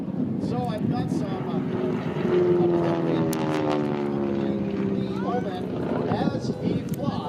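A radial-engine propeller stunt plane works through an aerobatic routine at an airshow, its drone swelling and bending in pitch as it passes, with a commentator talking over it throughout.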